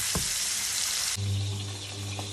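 Rump steak sizzles loudly in a pan over high heat, a steady hissing fry that continues throughout with a strong low hum from the stove, no talking.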